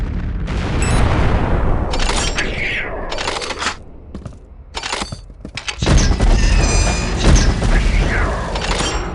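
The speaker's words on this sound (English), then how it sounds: "I've given you some incendiary grenades, so load them up and prepare for a show." Incendiary grenades going off in the video game Unreal 2: The Awakening, a run of loud bursts and crackling impacts with shattering debris, separated by short lulls and ending in a dense roaring stretch.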